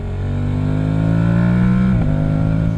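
Steady motorcycle engine drone with a soft wash of wind noise, recorded with the helmet visor fully closed, the pitch climbing gradually then dropping as gears shift, heard from the rider's position.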